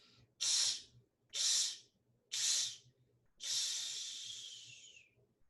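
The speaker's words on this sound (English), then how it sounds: "The exhale is in 4 parts." Four forceful breaths pushed out through the mouth in a breathing exercise: three short, evenly spaced hissing bursts, then one long, trailing exhale, close and clear in a quiet room.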